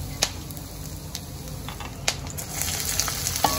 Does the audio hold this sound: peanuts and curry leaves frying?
yes